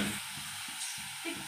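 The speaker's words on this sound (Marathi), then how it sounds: "असं मिक्स करून घ्यायचं चांगलं परतून थोडंसं" Chopped potatoes being stirred and sautéed in a pan for a dry fasting potato sabzi with peanut powder: steady soft sizzle with rhythmic scraping stirs, close and fairly quiet, no voices.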